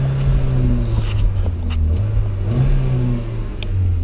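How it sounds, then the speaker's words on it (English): A Mini's engine idles loudly and steadily nearby, rising briefly in a couple of revs, with a low droning hum throughout and no talking. "The car's on."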